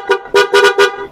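Four short, loud aftermarket PIAA car horn honks close by, the first on its own and the last three in quick succession.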